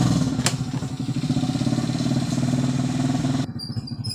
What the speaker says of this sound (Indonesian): Sekarang saya akan mencoba menghidupkan motor ini